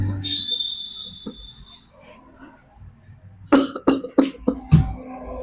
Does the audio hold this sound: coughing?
yes